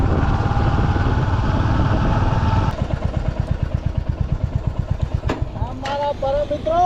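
A Honda Activa scooter engine labors and sputters in a rough, rapid chugging rhythm, revving unevenly as it gets stuck in the sand of the Rann of Kutch desert, close and loud.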